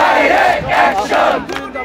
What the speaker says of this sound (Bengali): এই মুহূর্তে তারা দেখছি যে বিভিন্ন স্লোগান দিচ্ছে